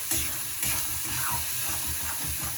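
A cashew mixture stirred in a frying pan over lowered heat makes a continuous hissing fry with repeated scraping strokes of the spoon, close and fairly loud, with no voices.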